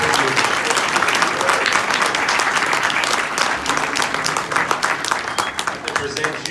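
A conference audience at an Ohio Bigfoot event gives a sustained round of dense clapping that holds steady throughout, close and lively.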